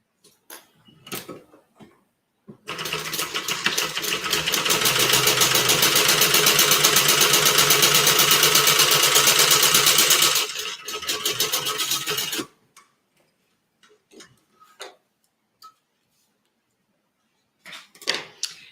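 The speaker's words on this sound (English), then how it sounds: "And I'm going to stitch 1/4 of an inch from the edge." A sewing machine runs a steady, loud burst of about ten seconds, stitching a seam a quarter inch from the fabric edge, with quieter handling clicks and taps before and after.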